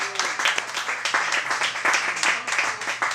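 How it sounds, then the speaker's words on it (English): Audience applause after a reading at a live spoken-word or music event, a steady mass of close clapping that keeps going across the whole stretch with no voices over it. "we shall also give her a round of applause"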